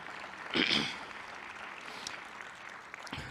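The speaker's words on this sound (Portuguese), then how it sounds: "Vamos recebê-lo com uma salva de palmas" Church conference audience in São Paulo welcomes a pastor to the stage with a round of applause, a fairly faint, distant patter of clapping with a brief louder burst early and a few voices.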